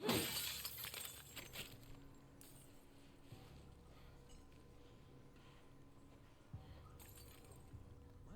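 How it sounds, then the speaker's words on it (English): A glass bottle shatters at the start in The Last of Us Part 2, a brief crash with tinkling fragments, followed by a long stretch of quiet game ambience and low background tones. "just using this trick of luring them in by breaking the glass"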